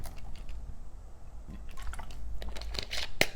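A person takes a drink of water up close, with quiet sips, gulps and small liquid clicks, and a brief sharp knock at the end.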